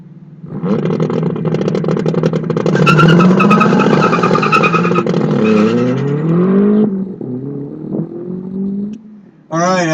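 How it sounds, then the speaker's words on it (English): BSB Mazda Miata race car accelerating through an SCCA ProSolo autocross course at Crows Landing, a loud engine rising in pitch through gears, then easing off and fading before another sharp burst at the end. "Steve Ublinas works his way to the right side course in that BSB Miata"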